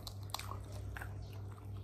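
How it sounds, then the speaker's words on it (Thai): Someone bites into food with sticky rice at breakfast, making faint, close crunchy bites over a low steady background hum. "เอาข้าวเหนียววางก่อน เอานี้วางก่อนแล้วก็ยกมากัดเงี้ย"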